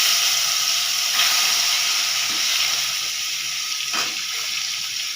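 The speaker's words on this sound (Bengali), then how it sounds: "এখন শুকনো লঙ্কা দিয়ে আর পটলগুলো একে একে ছেড়ে দিচ্ছি।" Pointed gourd pieces and dried red chilli dropped into hot oil in a kadai, a loud continuous hiss and sizzle with a couple of small bumps as pieces go in.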